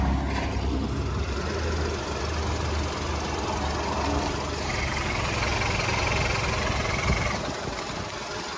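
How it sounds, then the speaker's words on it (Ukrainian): A car engine idles steadily at close range, a smooth even hum with no talking over it, with no extraneous noises. "Двигун працює чітко, рівно, без посторонніх шумів, звуків, досить гарно робить."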